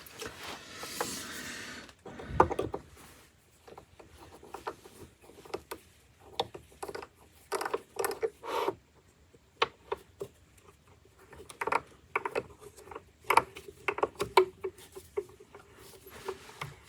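Thread tapping into an adapter on an Emco Unimat 3 lathe: faint, irregular metallic clicks and scraping strokes in short bursts, close and quiet with pauses between.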